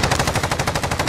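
Pistol shots in a video game fire in quick, evenly spaced succession, a close, loud run of about a dozen cracks in just over a second.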